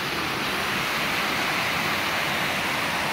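Small trail waterfall flowing steadily, a close, loud broadband rush of falling water that fills the whole stretch without pause or voices.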